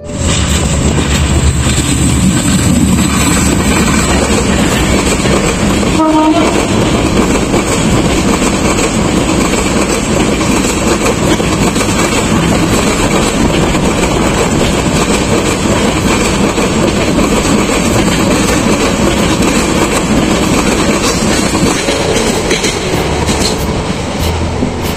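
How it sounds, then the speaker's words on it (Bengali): A train rolls past on the Chittagong main rail line in bright sun, a loud, close, continuous rumble with rhythmic clickety-clack of wagons on the track lasting the whole stretch, no talking. "চট্টগ্রামের যে মেন আপনার ট্রেন রুটে সবসময় দেখবেন এখানে ট্রেন চলাচল করতেছে।"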